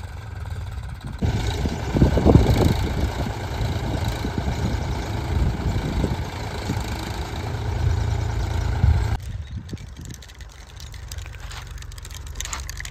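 A tractor engine runs steadily in a stony farm field during ploughing, a loud low idling rumble throughout that drops to a quieter hum near the end.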